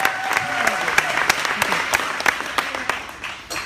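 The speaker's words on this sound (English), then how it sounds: "Give the leadership a round of applause." Audience applause for an event's leadership fills the air, a steady wash of clapping with sharper individual claps standing out. A voice speaks faintly underneath.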